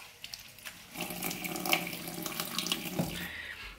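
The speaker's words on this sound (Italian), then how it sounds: "bagnarla così sotto l'acqua" Tap water runs steadily into a kitchen sink over a paper-wrapped sweet potato, a continuous close splashing hiss with small shifts as the potato is moved under the stream.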